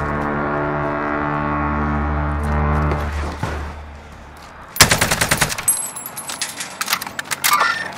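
Automatic gunfire in the Warzone video game on Rebirth Island: after a sustained engine-like drone, a loud burst of rapid shots breaks in and continues as an uneven string of bursts with metallic clinks.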